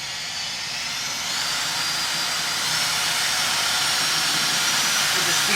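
A 21 mm orbital polisher running on a car hood at a low speed setting, producing a steady loud whirring hiss that swells slightly as it works.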